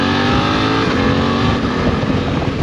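Suzuki V-Strom 800DE adventure motorcycle accelerating hard through the gears, a loud, close, continuous engine roar with rising revs and no talk.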